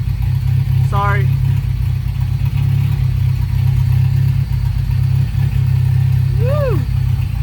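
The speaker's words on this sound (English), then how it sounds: "I got LSD in the front, so of course both tires are gonna spin." An AWD Honda Civic EM2 with a Rotrex supercharger and front limited-slip differential runs hard with all tires spinning, a loud, steady engine drone throughout, broken by two brief whistling chirps.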